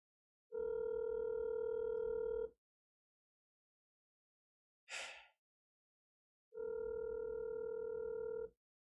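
A phone ringback tone plays while a call waits to be answered: two long, steady buzzing tones of about two seconds each, separated by a silent gap with one brief soft noise in the middle. The tones are clear and no one speaks over them.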